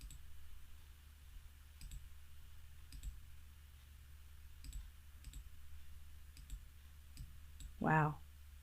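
A computer mouse being clicked while editing colors in graphic design software gives several faint, sharp clicks at irregular intervals over a quiet background, with a brief tonal blip near the end.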